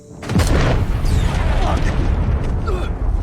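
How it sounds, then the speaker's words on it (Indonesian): A loud, deep boom bursts out and rolls into a sustained rumbling roar as a squad car explodes nearby in a film, with faint voices mixed in. "tiba-tiba mobil regu yang akan kembali ke markas meledak."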